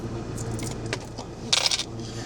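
Coins clink and jingle close by inside an Abarth 595 car, a few light taps followed by a brighter cluster of metallic rattling.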